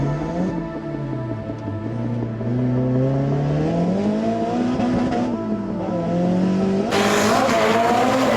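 A drift car at an Irish Drift Series round howls loudly with a wavering, rising and falling engine note and a long tire squeal, the pitch climbing as it pushes through the run, with a harsh burst of noise near the end.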